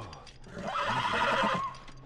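A horse in The Last of Us gives one clear, close whinny lasting about a second, rising out of quieter ambient noise with faint hoof sounds around it.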